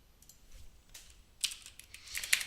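Quiet typing on a computer keyboard while creating a website hosting account, with soft scattered keystrokes that cluster into a brisker burst of clicks toward the end.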